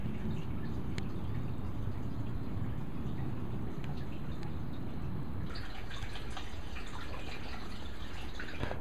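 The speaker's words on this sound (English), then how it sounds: "now the water is flowing out of the creeks" Creek water in the California Bay Area flows steadily after an earthquake, a continuous wash of running water with faint trickling and dripping, sitting at a moderate distance with no voices.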